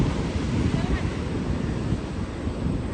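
Steady wind buffets the microphone on a hilltop at Crocodile Rock above the sea, with a constant roar of distant surf beneath, loud and unbroken.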